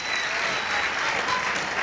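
Applause from a school spring concert audience for student performers, a dense steady clapping that fills the hall for the whole stretch without a break.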